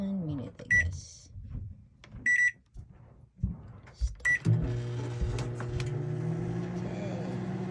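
A microwave oven reheats leftover food. Three short electronic button beeps sound amid brief talking, then the oven settles into a steady, close humming drone for the rest of the clip.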